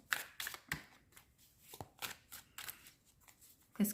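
Tarot cards handled and spread across a cluttered table: a run of quick papery flicks, slides and light taps at irregular intervals, close up and fairly quiet, with no voice.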